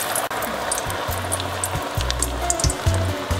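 Falafel balls drop into hot oil and fry, giving a soft steady sizzle and bubbling with a few low gurgling pops, heard close up with no talking.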